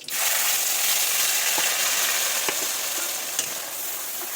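Spice paste frying in hot oil in a pan with whole garam masala and bay leaves, a loud, steady sizzle broken by a few sharp clicks of stirring.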